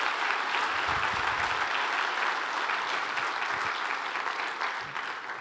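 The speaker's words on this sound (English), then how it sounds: "And that applause is for everyone this morning." Sustained audience applause at a cardiac arrest symposium in Scotland after morning presentations, a dense, steady wash of clapping from a large room that holds loud throughout and eases slightly at the end.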